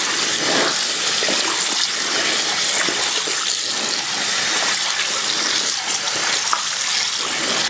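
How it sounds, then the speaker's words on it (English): Fabric soaks in water and gets squeezed and swished, a constant loud watery rush and splashing with no pauses. "I've been soaking and squeezing this fabric until the water has now turned clear"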